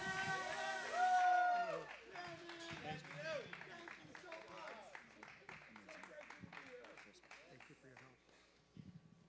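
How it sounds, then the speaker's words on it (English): An audience at a live music show claps and cheers after a band introduction, with shouts and whoops over scattered applause that gradually thins out into crowd chatter. "So everybody give a big round of applause."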